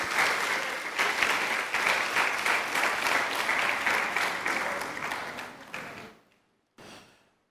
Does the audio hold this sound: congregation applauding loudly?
yes